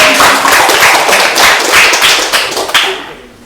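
Audience at a high school podcast event clapping loudly and close, a dense burst of hand claps that tapers off toward the end.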